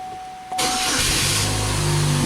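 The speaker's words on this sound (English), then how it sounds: "let's see if the car is going to start." An Oldsmobile Alero with an intermittent crank-no-start fault fires up after a brief quiet moment, the engine catching abruptly and settling into a steady, loud idle close by, with no voices.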